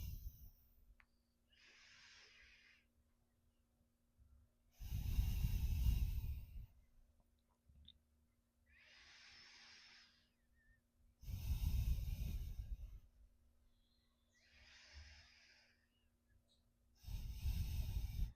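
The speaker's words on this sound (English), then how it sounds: "And just take some nice deep breaths here." Slow, deep breathing during an upper back stretch with a strap, loud rushing inhales alternating with fainter exhales in a steady repeating cycle, close to the mic with no talking.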